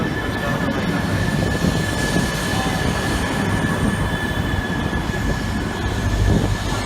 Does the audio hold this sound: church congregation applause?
no